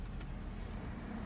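A rough-idling 1977 Ford truck engine, a steady low rumble with uneven shaking pulses, close and continuous with no talk.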